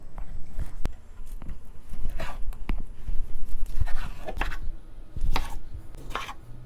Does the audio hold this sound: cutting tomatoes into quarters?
yes